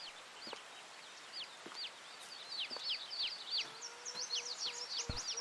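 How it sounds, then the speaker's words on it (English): Soft, rapid rooster clucking chirps from a farming video game repeat in quick bursts over a quiet background, with occasional faint taps and knocks nearby. "Hello, cockerel."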